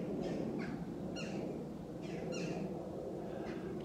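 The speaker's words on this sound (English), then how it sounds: "And it's the noisy birds, it's crows." Several harsh crow caws ring out at intervals over a steady low rumble of background noise, moderately distant, in a graveyard with 1800s gravestones in Haworth, West Yorkshire.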